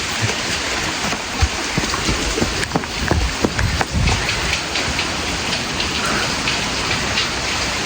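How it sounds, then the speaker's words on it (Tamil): Heavy rain pours steadily and loudly, with a dense continuous hiss and scattered sharper splashes of drops hitting nearby surfaces, close up and with no one talking. "இப்போ வந்து ஓவராக மழை பெஞ்சிக்கிட்டு இருக்கு"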